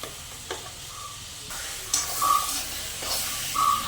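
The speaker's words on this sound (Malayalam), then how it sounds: "ബീഫിനി നന്നായിട്ടൊന്ന് റോസ്റ്റ് ചെയ്തതിന് ശേഷമാട്ടോ ഇറക്കി വെക്കുന്നത്" Beef roasting with masala in a pan gives a soft, close sizzle and frying hiss, with intermittent scraping stirs and brief steamy bursts, fairly quiet overall.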